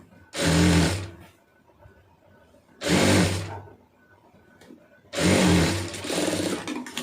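A sewing machine runs a straight running stitch along a blouse in three loud, close bursts of fast mechanical whirring, the last one longest, separated by brief quiet gaps.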